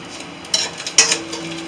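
A spoon scrapes and clinks against a frying pan while lifting crispy fried bacon out of hot oil, a few sharp metallic taps over a faint sizzle, close and alone.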